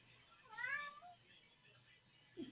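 A single cat meow, quiet and slightly drawn out, rises and falls once against a faint, low background.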